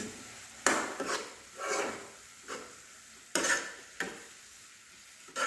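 Chopped tomatoes and two green chillies added to a pan with mashed potato for a fish curry with ridge gourd give a quiet background sizzle, broken by several distinct spatula stirring strokes at irregular intervals.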